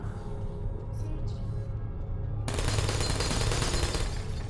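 Turret fire in the Portal video game, a dense rapid machine-gun rattle that bursts in abruptly partway through and continues loudly, following a low steady game hum.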